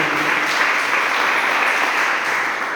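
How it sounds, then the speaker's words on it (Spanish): A church congregation claps in praise to God, a dense, steady burst of hand clapping filling the room at close range for the whole moment, with no voices over it. "Le damos una fuerte ofrenda de palmas a nuestro buen Dios, mis amados hermanos."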